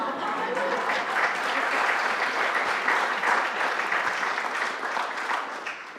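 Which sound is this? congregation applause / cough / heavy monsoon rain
congregation applause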